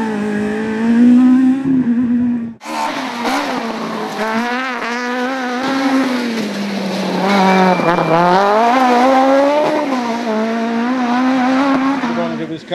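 A Suzuki Swift rally car racing uphill at the King of the Hill event in Barbados, its loud close engine revving and shifting with rising and falling pitch after a brief drop, with a commentator talking over it.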